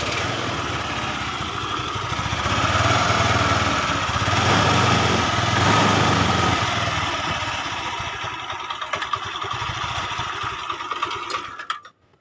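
A motorcycle engine with an unadjusted carburetor idles low and unevenly, a steady buzzing drone close by that swells in the middle, then fades and sputters out near the end, with no voices.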